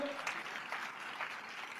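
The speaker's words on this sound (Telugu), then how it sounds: "చప్పట్లు కొడుతూ దేవునికి స్తోత్రాలు చెప్దాం" A church congregation clapping while praising God, a steady patter of many hands applauding at moderate distance, with a voice speaking over the clapping.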